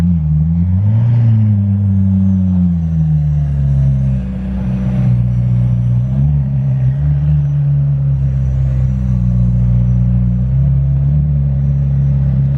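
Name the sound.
Ferrari F8 Spider car approaching in Monaco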